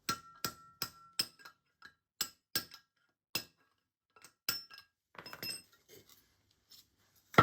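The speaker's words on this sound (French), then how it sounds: "Là, il y a un ergot sur lequel je peux frapper sur la cage de chaque côté." Hammer striking a bearing cage on a car being serviced, knocking it out from the lug on each side: a series of sharp metallic clinks in a steady rhythm, then a short scraping rattle and one final louder knock.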